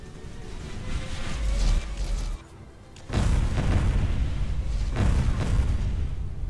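An Archimedes II orbital laser strike hitting in Fallout 4, heavy deep booming blasts with a brief pause before a second sustained rumbling impact and a further loud burst near the end.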